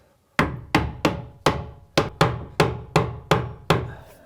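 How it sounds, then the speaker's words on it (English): Hammer tapping a wall cabinet into place, about ten sharp, evenly spaced knocks on wood, close and loud with brief ringing after each, no talk. "Little tap."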